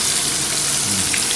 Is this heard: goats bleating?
no